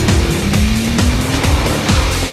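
Car braking hard on Michelin Pilot Super Sport tyres during a braking test, a loud continuous tyre squeal with a sliding tone over engine roar, steady through the clip and cut off at the end.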